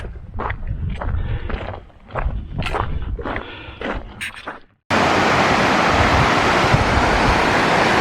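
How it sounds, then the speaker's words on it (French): Footsteps and movement on a mountain trail near Chamonix and Les Contamines, then a steady, loud roar of a mountain waterfall that holds on its own, close and unbroken, for the last few seconds. "On passe par la cascade."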